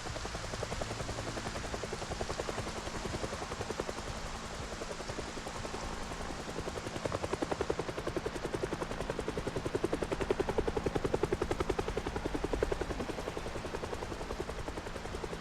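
A helicopter hovers overhead in the video game Project Zomboid, a steady, continuous rotor drone that holds at a fairly constant level for the whole stretch, with no talking.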